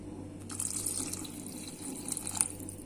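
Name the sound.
water poured into pot for cooking rice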